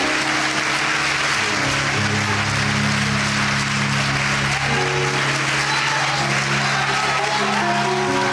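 A church congregation applauds in a loud, continuous wash of clapping, with sustained music tones held underneath the whole time.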